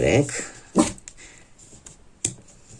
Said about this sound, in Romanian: Am cățelul care stă lângă mine, mai scoate și el cât un sunet